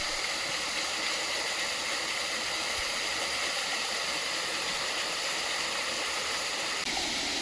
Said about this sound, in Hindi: जहाँ से पानी लगातार झरने के रूप में आ रहा है यहाँ पर